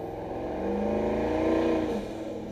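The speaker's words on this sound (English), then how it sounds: "the compressor surges like all goddamn day. These turbos spool so fucking fast." A truck's turbocharger spools up and its compressor surges while cruising around town, giving a continuous engine drone with a rising, wavering tone that peaks and then eases over a couple of seconds, with no talking.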